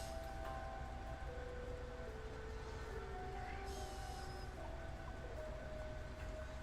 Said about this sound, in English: that's our train there, our other train.